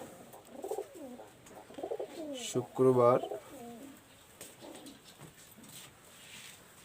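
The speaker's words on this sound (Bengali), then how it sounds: "আজকে আমার লফটের কিছু কবুতর আপনাদেরকে দেখাবো" Pigeons cooing in a loft, soft repeated throaty coos near the microphone, with a brief spoken word partway through and low room noise.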